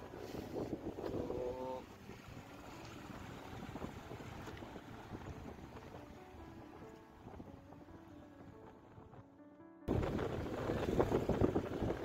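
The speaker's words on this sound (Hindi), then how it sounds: "हवा चल रही है ठंडी ठंडी" Wind buffeting the microphone while riding on a vehicle roof on a mountain road toward Benisang, Chenani, Jammu, a steady rumbling gust with softer tonal hum mid-clip and a louder burst near the end.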